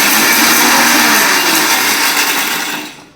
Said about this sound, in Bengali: এক এক করে সব মশলাগুলো বেটে দেবো